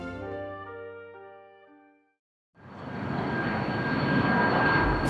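Inside an airplane in flight, a broad steady engine roar comes up after a brief near-silence and holds loud, following a stretch of tonal music.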